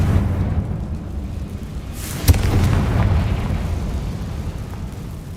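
A Confringo blast spell from Hogwarts Legacy on PS5 sets off a sharp, loud explosion partway through, followed by a rumbling boom that fades into a steady low ambient drone. No speech.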